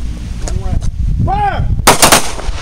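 A single sharp pistol gunshot at a police-style shooting practice range, loud and close, following brief vocal tones from nearby people.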